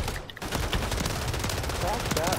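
Rapid Uzi pistol fire rattles in a video game, close and fairly loud, with fast repeated shots running through the short moment over busy game noise.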